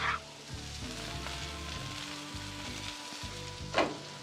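Peppers and onions sauté in oil on a hot griddle at about 375 degrees, giving a steady close sizzle with a low mechanical hum underneath and a short sharper hiss near the end.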